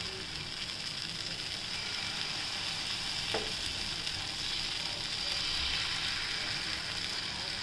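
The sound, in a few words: dosa batter sizzling on a hot pan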